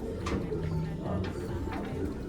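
Racing pigeons coo softly in a loft, low throaty calls repeating a few times over a steady background, close by, with faint speech in places.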